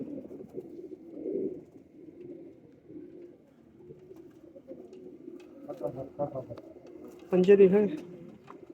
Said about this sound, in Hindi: ये है पहला कबूतर